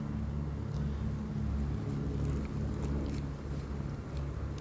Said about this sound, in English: you're going to either hear cars in the background